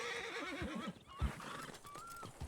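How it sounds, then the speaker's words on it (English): A horse in a video game gives a loud, close, quavering whinny that trails off, followed by a few hoof thuds and snorts, with no voices. "Am I getting on a horse?"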